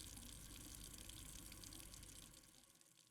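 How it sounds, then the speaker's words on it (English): A kitchen sink left running in the video game Blue Prince gives a steady, faint stream of tap water that pours continuously and then tapers off near the end. "Because I left the sink running."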